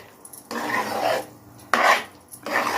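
A spoon scrapes and stirs sweet milk pongal in a pot in three distinct rasping strokes separated by brief pauses, close and fairly loud.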